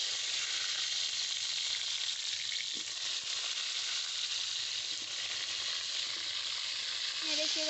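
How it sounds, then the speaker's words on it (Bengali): Pointed gourd fries in oil in a wok, giving a continuous, even, close hiss of sizzling that holds steady throughout with only faint small crackles. "পটলগুলোকে ভেজে নেব।"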